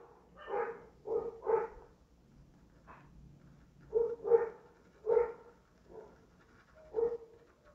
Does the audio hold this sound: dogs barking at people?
yes